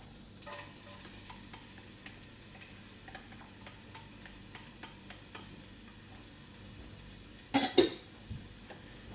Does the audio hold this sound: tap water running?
no